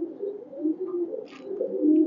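Small male red-necked highflyer pigeons at a loft in Khulna coo softly and continuously, a low, close, murmuring call with a faint chirp over it.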